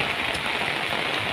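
Heavy rain pouring steadily in Sulawesi, a dense, even hiss of falling water that stays loud and unbroken throughout without any voices.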